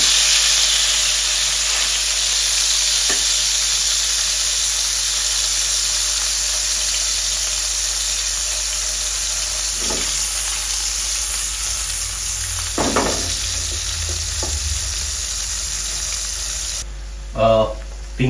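Sea fish frying in hot oil over a low flame: a steady, loud sizzle runs throughout, with a few faint clinks and brief handling noises near the end.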